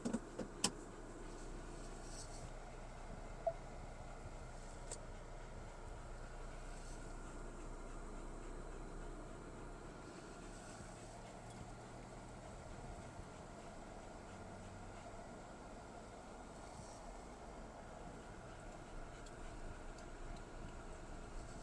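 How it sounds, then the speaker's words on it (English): A car driving around, a steady low road and engine rumble inside the cabin throughout, with faint rattles and a few light clicks, no voices. "I'm going to drive around a little more and then do another stop"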